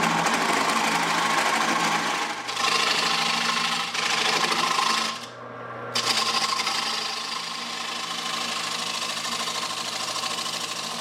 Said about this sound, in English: I'm going to switch over to a 1/2-inch round nose scraper for the next part.